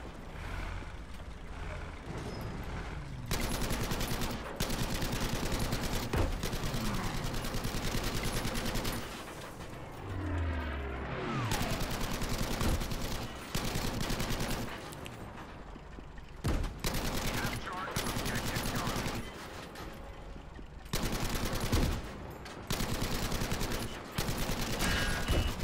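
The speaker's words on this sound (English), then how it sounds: "I might manage to hit a Stuka with a 30 cal machine gun." Long bursts of 30 cal machine gun fire in Battlefield V, loud and close, with dense gunfire and explosions filling the battle and vehicle engines rumbling underneath; brief gaps break up the firing.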